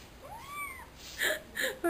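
A new pet cat gives a soft, rising and falling meow, then a couple of shorter cries. The sounds are fairly faint and close in a quiet room, with no one talking over them.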